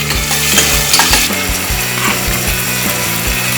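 Green chilies and chopped onions sautéing in hot oil with cinnamon in a Tamil potato mutton gravy, stirred with repeated scraping and clinking strokes of a spoon against the pan over a steady sizzle, close and fairly loud.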